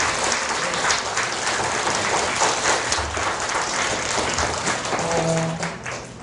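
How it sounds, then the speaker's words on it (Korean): An audience in a small literary café theatre applauds, a steady, dense wash of clapping throughout, with a faint musical tone emerging near the end. "오늘 고생하신 분들께 박수 부탁드리겠습니다."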